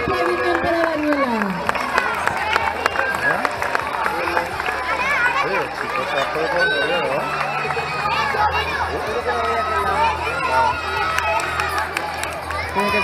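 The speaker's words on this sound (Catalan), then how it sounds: "un fort aplaudiment per a Daniela" A crowd claps and cheers for a girl winning a prize at a school running race awards ceremony in Xàtiva, with dense continuous applause, children's shouts and chatter, and a voice over the noise, all fairly loud.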